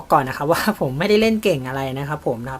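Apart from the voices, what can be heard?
No distinct noise like a dog, phone or traffic.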